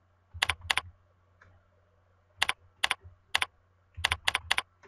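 A password is typed on a computer keyboard in short bursts of two or three crisp key clicks separated by pauses, close and clear against a low background hum.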